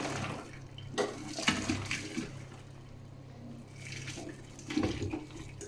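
Water from soaked fig chips being strained and drained, a steady splashing pour with a couple of stronger gushes, close and alone.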